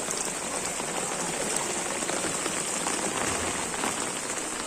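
Heavy monsoon rain pours down in Mumbai, a steady, dense hiss of drops hitting surfaces that stays constant and close.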